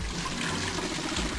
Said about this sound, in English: Alright, so I just pour the hot water into this tank